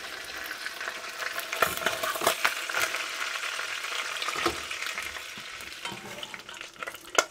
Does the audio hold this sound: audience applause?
no